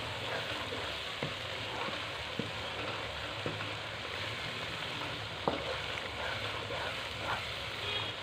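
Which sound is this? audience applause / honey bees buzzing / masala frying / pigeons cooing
masala frying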